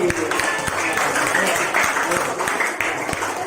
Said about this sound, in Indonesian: Tepuk tangan buat Bapak Hadi